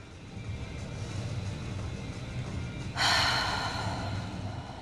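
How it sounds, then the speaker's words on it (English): Slow, deep breathing from someone resting in child's pose in a Pilates mat class, soft and close, with one louder breathy exhale partway through over quiet room noise. "Let's take 3 deep breaths."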